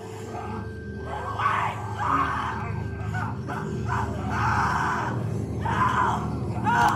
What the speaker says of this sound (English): What the hell is that? A walker? Walkers don't scream,